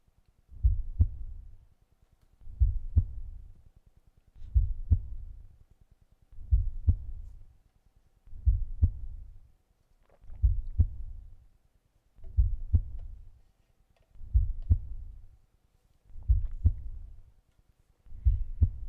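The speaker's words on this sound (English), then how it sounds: "This heartbeat reminds me of when I used to beatbox." Slow, deep heartbeat effect from a Homestuck flash animation, paired thumps repeating about every two seconds with low booming resonance, steady and isolated against silence.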